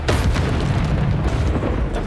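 A Bombarda explosion spell in Hogwarts Legacy erupts as a loud, sustained, booming blast that rumbles steadily for about two seconds.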